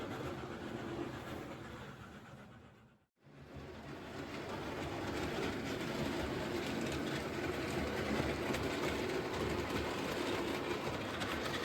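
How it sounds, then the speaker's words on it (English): A long model train rumbles steadily around a model railway layout with a continuous clattering hum, briefly dipping quiet once before resuming its even running sound. "I'm quite happy actually just to let that train circle."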